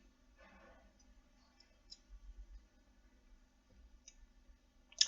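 A computer mouse clicks a few times in a quiet room: sparse, sharp, faint ticks spaced irregularly, with the last one slightly louder, over a low background hum.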